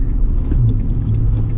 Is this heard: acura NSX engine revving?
yes